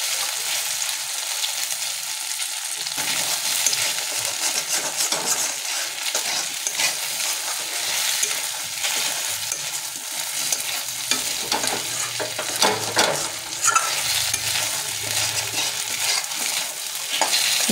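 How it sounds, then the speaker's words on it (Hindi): Taro (arbi) pieces fry in a pan and get stirred now and then, a dense continuous sizzle broken by scraping stirs. "बीच बीच में हमें इसे चलाते भी रहना है और इसी तरह से अरवी के आलू को अच्छे से फ्राई कर लेना है 2 से 3 मिनट तक"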